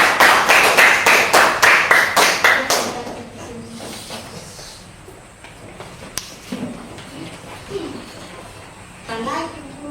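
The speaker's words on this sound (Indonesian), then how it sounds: "Tepuk tangan dulu buat" A classroom of students claps briefly in a quick, rhythmic burst of about a dozen sharp hand claps close by, then it fades into quiet chatter and a teacher's voice.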